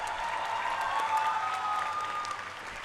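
An audience at a university convocation for planning degree recipients applauds steadily, a dense, even wash of clapping from a large hall crowd lasting a few seconds.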